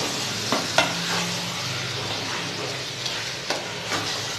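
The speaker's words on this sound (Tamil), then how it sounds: "சிக்கனை நல்லா வதக்கிடலாம் இந்த கிரேவி கூட." Chicken sautéing in biryani gravy in a pan sizzles steadily throughout, with a few sharp spoon scrapes and stirring knocks near the start and later on, close and alone with no talk.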